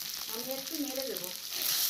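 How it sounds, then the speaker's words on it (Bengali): Taro stems and bata fish stirred in a frying pan, a soft close sizzle under brief scraping stirs, with a faint hint of a voice in the background. "আমি একটু নেড়ে দেবো।"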